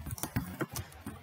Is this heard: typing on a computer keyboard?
yes